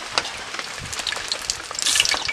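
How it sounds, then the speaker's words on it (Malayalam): Hot oil hitting a heated pan while tempering a Kerala-style curry, giving a steady crackling sizzle with scattered pops that swells louder near the end, heard alone without talk. "ഇത് ഇച്ചിരി എണ്ണ ഒഴിച്ചു കൊടുക്കാം, ചട്ടി ചൂടായിട്ടുണ്ട്."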